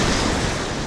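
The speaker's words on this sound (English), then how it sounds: "Spend the day running into the waves." Ocean waves breaking on Keri beach in North Goa, a steady loud rush of surf and wind noise filling the short moment with no voices.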